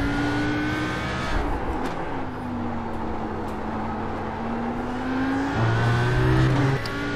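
Mercedes GT race car engine in iRacing, a loud, sustained droning roar whose pitch rises and falls through gear changes, with another car's engine audible nearby.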